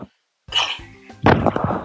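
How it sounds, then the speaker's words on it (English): A man clears his throat in a couple of rough, guttural bursts. The first is short and the second louder and rasping, close up, with a few faint tonal hums between them and no speech. "Sorry to clear my throat right there."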